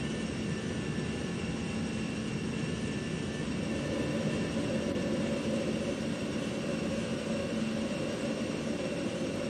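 Steady jet engine roar of a Eurowings Airbus A320 climbing out after takeoff in VATSIM flight simulation, a loud continuous broadband rumble with a faint whine held constant throughout, with no talking.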